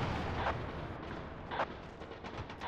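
203 mm howitzer firing in the Battlefield video game: distant, muffled artillery reports, a couple of soft thumps with bursts of noise over a steady low rumble, faint overall.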